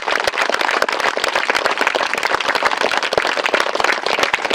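Dense, loud clapping from an audience at a talk about building the Sri Maha Srichakra pyramid, continuous sharp claps filling the whole stretch with no voices over them.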